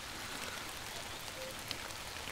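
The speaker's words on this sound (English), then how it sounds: "I don't mind when it rains. I actually really like the noise." Rain falling outside a bothy, a steady soft hiss of drops with no other sounds, even and moderately quiet throughout.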